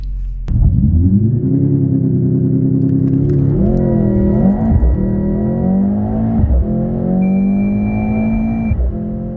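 Mercedes-AMG GLC 63 S performance SUV launching and accelerating hard, a loud close engine roar rising through gears with brief dips at each shift, heavy low rumble throughout.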